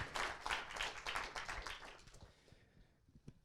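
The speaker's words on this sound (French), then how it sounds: "Mesdames et messieurs, on l'applaudit, on l'encourage très fort" An audience applauds a contestant at a regional science-talk contest final, a dense burst of clapping that swells at the start and thins out over a few seconds, fading to scattered claps at the end.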